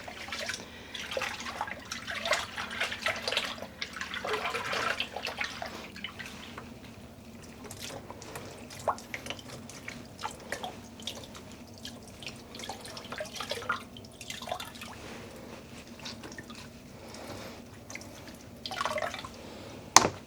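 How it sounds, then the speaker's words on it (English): Water runs and splashes as hand-dyed yarn in a tropical island colorway is rinsed at home, a steady close trickle with drips that is busier at first and then settles into a softer flow. "I'm going to go ahead and rinse it one more time, and then we will be hanging it out to dry."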